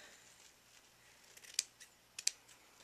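Scissors trim the fabric edges of a baby tutu with a few faint snips, two of them sharper and louder, in an otherwise quiet room.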